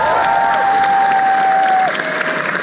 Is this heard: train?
no